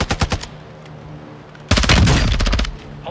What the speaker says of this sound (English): That was me shooting.